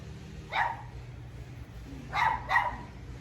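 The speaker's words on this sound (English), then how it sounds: "The dogs are going crazy." Dogs bark in three short bursts at a house near a winter garden, fairly close but not loud, with a gap between the first bark and a quick pair near the end over a faint low hum.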